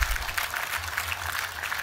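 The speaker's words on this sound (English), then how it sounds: "Can we have a round of applause for all the family and friends that helped make it happen?" Faint, steady applause from an audience at an online graduation ceremony, a soft continuous patter of clapping heard briefly and at a distance.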